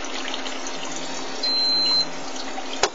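Steady hiss of water flowing through cooling tubes on a water-cooled Makergear RepRap Prusa 3D printer, with a brief high tone partway through and a sharp click near the end.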